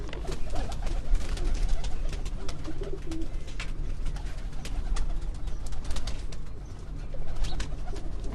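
Pigeons coo close by on a rooftop in low, soft, repeated calls, with rustling and background noise throughout.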